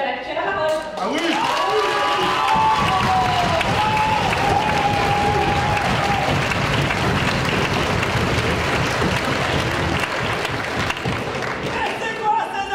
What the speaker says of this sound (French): C'est quoi ces applaudissements?